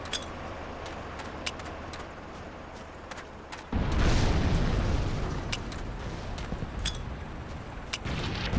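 A heavy grenade explosion in the Vietnam War shooter Battlefield Vietnam, a sudden deep boom bursting out of quieter background battle noise and rolling on loudly for several seconds while distant shots crackle.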